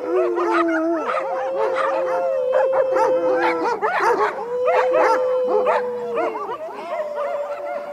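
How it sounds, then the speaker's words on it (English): Guard dogs bark and howl close by, several long wavering howls overlapping with yips, whimpers and barks in a loud, continuous chorus. "The guard dogs take their positions."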